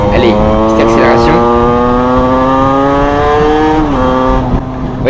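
A 50cc two-stroke moped with a Voca Rookie aftermarket exhaust revs up close with a raspy, buzzing exhaust note, pitch climbing steadily before easing off near the end.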